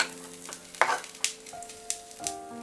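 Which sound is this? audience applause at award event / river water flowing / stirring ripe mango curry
stirring ripe mango curry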